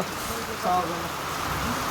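Steady hiss of falling rain in Chitwan, Nepal, an even wash of noise with a brief louder patch and faint voices underneath.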